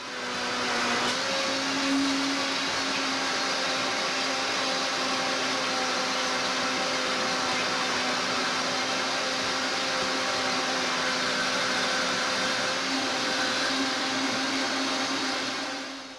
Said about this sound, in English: So now I'm going to use the tamper, you guys, to get rid of that air pocket and get everything moving again.